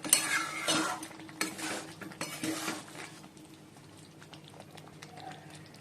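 Chicken being sautéed in a pan, heard as utensils scraping and clinking against the metal over a low sizzle that fades to a quieter bubbling.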